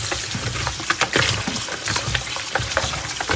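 Water splashes and trickles as raw oxtail pieces are washed by hand in a bowl, a close, busy wet sloshing with irregular rhythm and no talk.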